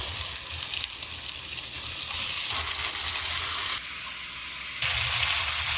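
Fish frying in a pan for a home-style fish fry, a steady loud sizzle and hiss that swells and dips as pieces are added or stirred, with no talk over it.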